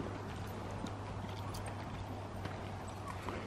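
Horses trotting in a riding arena, a steady, even clip-clop of hooves continuing throughout over a low constant hum, moderately near with no talking.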